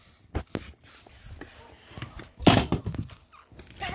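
Cannon fire in a video game: a string of dull thuds, then a loud, sharp blast near the middle, followed by further muffled impacts.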